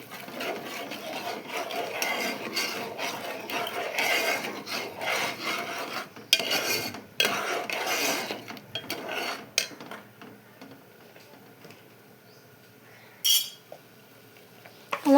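Spices and salt being stirred into a tomato curry with meal maker, heard as repeated rasping scrapes of a spoon against the pot that grow sparse and quiet toward the end, with a few sharp clinks.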